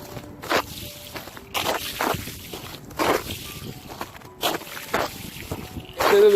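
Footsteps on frozen lake ice in a park, each step giving a sloshy, watery kick; about seven separate crunching steps at an irregular walking pace, fairly close, with a brief tonal squeak near the end.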